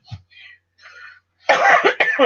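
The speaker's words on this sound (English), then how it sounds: "I've had a cough all morning" A few soft murmured sounds, then a loud, harsh burst of coughing up close, two rough coughs in quick succession.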